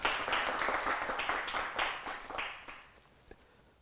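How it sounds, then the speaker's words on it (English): Audience clapping for a speaker at a student debate on football fan conduct, a bright burst of applause that thins into scattered claps and dies away. "Thank you for clapping for me."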